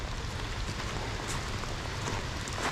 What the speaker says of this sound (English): Of course, the rain's picking up